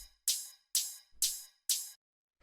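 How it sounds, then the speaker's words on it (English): Four evenly spaced bright, hissy techno hi-hat hits land on the upbeats, each with a sharp attack and short decaying tail, separated by gaps of near silence; a faint low kick thump appears between them. "Next thing that we have here is this hi-hat, which sounds like this."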